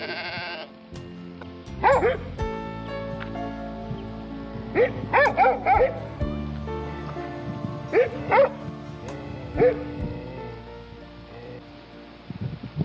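Karaman dogs bark in several separate bursts in a rural village in the Ovche Pole region, the loud calls spaced out over a quiet outdoor background with some bleat-like livestock cries mixed in.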